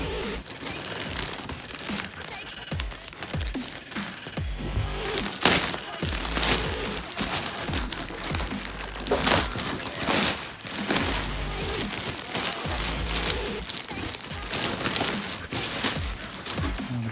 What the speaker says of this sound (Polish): no dobra, to rozpakowujemy